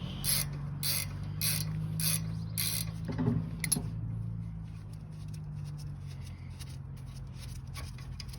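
A ratchet loosens the lower brake caliper bolt on a 2006–2011 Honda Civic. Rapid rhythmic clicking comes first, then a steadier mechanical grind and scraping, close up with no talking.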